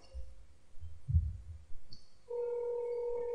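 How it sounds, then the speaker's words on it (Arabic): A phone rings during an internet call placed through an online calling service; after some low thumps, a steady electronic ring tone starts and holds clearly to the end, without talk. "إذن أظن أنكم تسمعون الرنة، وكما تلاحظون هنا الهاتف يرن."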